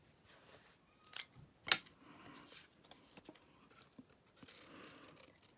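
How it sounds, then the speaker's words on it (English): Paper snips fussy-cut stamped boot images from card, with two crisp snips near the start and then a scatter of quieter clicks and rustles of paper at close range. "we need to fussy cut our boots. So I've got my paper snips here"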